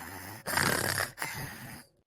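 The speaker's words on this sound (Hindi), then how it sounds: "ये खर्राटा लेती हैं" A person snores while asleep, two long rough rasping breaths close by, the second shorter, with no talk over them.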